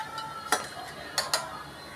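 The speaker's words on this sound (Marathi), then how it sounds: "थंड पाण्यामध्ये आपण आधी बॅटर पूर्ण छान व्यवस्थित करून घेऊया, कारण की त्या गुठळ्या होऊ नये म्हणून" A spoon stirring pudding batter in cold water in a bowl, soft and fairly faint, with three distinct clinks of the spoon against the vessel spaced across the moment.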